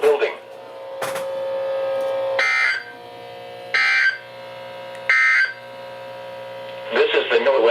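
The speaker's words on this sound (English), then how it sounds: "This is the NOAA weather radio." A NOAA weather radio sounds a tornado warning alert: a sustained electronic tone, then loud, evenly spaced buzzing bursts that alternate with quieter hum, close and loud.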